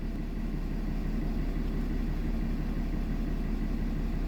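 RV tow vehicle engine idling after being started, a steady low rumble at constant level throughout, no talk.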